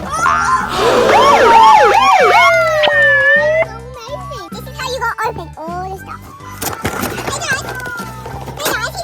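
A toy ambulance gives off a warbling electronic siren, loud and close, over background music, while someone talks and other voices join in.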